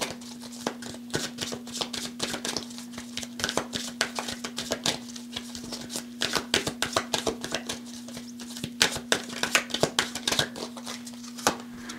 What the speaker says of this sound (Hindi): सो पाइल नंबर 2 के लिए कार्ड्स हम शफल कर रहे हैं